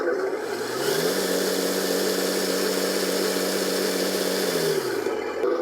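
The motor of a custom 6x6 RC tractor truck with a three-speed transmission whines at high speed, rising quickly to a steady, loud, even drone that holds before winding down at the end.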